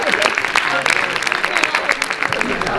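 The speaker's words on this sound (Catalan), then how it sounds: "aplaudim, va." A class of students at a secondary school claps together in a dense, steady burst of applause, close and fairly loud, with voices and chatter mixed in throughout.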